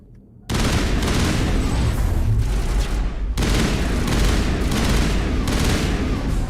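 Sustained automatic gunfire in Mass Effect Legendary Edition crackles loud and dense, starting abruptly and running almost without pause except one brief break, with no talk over it.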